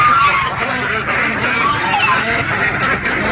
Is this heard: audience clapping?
no